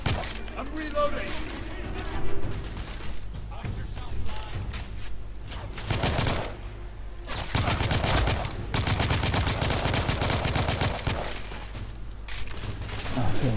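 Heavy gunfire in the shooter The Order: 1886 comes in long, dense automatic bursts that sometimes pause briefly, along with crashes and shattering impacts. A voice is heard now and then beneath the firing.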